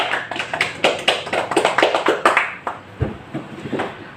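Classroom applause for a group that has just presented, a short burst of close, dense hand clapping that fades out after a few seconds into a few scattered claps.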